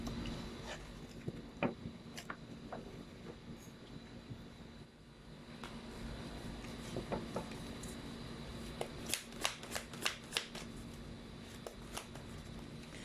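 Tarot cards are shuffled in a run of soft riffles and quick flicking taps that grow busier toward the end, close but quiet over a faint background hum, with no talking.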